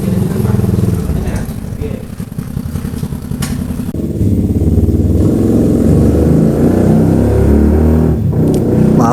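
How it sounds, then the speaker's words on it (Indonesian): A loud, rough motorcycle engine rumble dominates as it passes on a nearby road, revving and clattering close by with a change in pitch partway through. "Maaf kalau ada sedikit noise seperti suara sepeda motor karena konturnya ini dekat dengan jalan raya."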